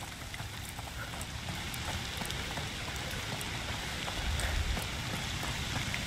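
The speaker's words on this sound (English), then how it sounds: "Foul rain." Rain falls steadily in the video game A Plague Tale: Requiem, a constant wash of patter with scattered sharper drips, fairly quiet and even from start to finish.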